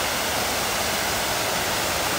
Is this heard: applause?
no